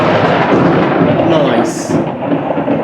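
Loud thunder from a thunderstorm rolls and rumbles close by throughout, a dense continuous roar with a brief crackling burst near the middle.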